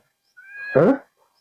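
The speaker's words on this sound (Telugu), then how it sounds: "మా పిల్లి వస్తుంది" A single cat gives one short, close meow that rises and then drops, alone in an otherwise quiet outdoor setting.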